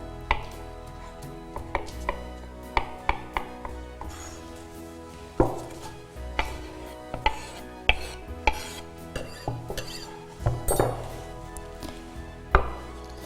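A filling of onion, smoked sirloin, mushrooms and pickles being mixed in a kitchen, with irregular knocks and scrapes of a utensil against the bowl, close by and fairly quiet.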